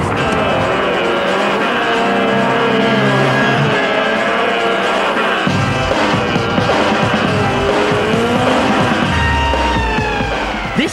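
Fast Volkswagen Beetles race on a drag strip at a Beetle gathering at Goodwood in 1996, with a loud, sustained engine roar whose pitch rises and shifts as the cars accelerate and pass.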